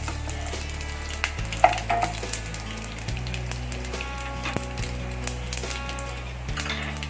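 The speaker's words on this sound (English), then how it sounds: "Crackle our khada masalas into it." Whole spices crackle in hot ghee: bay leaf, star anise, cinnamon, mace, cumin and cardamom. A steady close sizzle runs throughout, broken by a few sharp pops and light clinks, with no talking.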